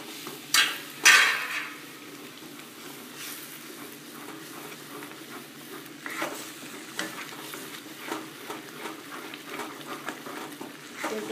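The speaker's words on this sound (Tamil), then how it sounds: "இப்போ ரவையை போட்டு கிண்டணும்" Semolina stirred around a pan for coriander upma, Srirangam style, with a spoon scraping in irregular strokes over a soft, steady sizzle; a couple of sharper clinks early on, no voices.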